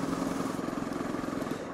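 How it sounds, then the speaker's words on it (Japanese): A Honda CRF250L(S) single-cylinder engine chugs at low revs while being ridden at about 40 km/h, a close, steady, slightly jerky pulsing throb with no voices. "ライダーの方にはエンジンが止まりそうな感触というのはなく、 結構低回転域粘るなという印象です"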